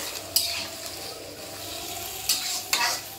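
Chilli chicken masala simmering in a pan, a steady soft bubbling sizzle with a few sharp clinks and scrapes of a spoon stirring against the pan, close and fairly quiet, no voices.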